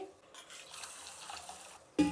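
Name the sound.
rinsing soaked grains in water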